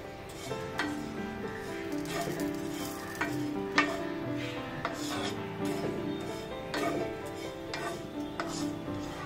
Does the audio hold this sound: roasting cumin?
yes